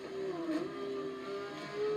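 A Lamborghini Veneno engine in the video game Forza Horizon 2 holds a steady, fairly quiet drone that rises slightly in pitch, with a small swell near the end.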